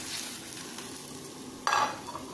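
Fried tofu stirred into a pan of eggs and soy-sauce mixture, with a steady low sizzle throughout and a short, louder burst of frying and scraping near the end.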